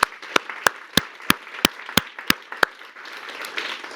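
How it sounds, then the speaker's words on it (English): Audience applause at an International Women's Week funding conference at the London Stock Exchange: a run of sharp, evenly spaced claps close by, over a softer patter that swells into scattered, diffuse clapping at the end. "let's have a big round of applause for them."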